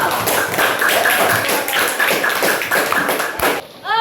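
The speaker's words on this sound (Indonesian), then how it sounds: "Iya, tepuk tangan dulu." A school class applauding together, heard as a dense, steady patter of many hands clapping close by for a few seconds before it stops abruptly.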